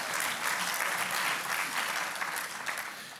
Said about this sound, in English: We can give them applause because they landed successfully